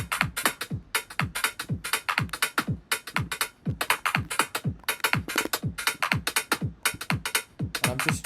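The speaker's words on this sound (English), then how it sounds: "Nice, some lovely shuffly hi-hats." Shuffly house hi-hat pattern programmed in Ableton, crisp closed hats ticking in a swung, steady groove over a punchy kick, with no voices present.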